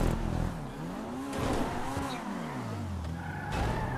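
A car in GTA 5 revving and sliding, its engine note swooping up and down in pitch through a skid with tire squeal, loud and close with no talk over it.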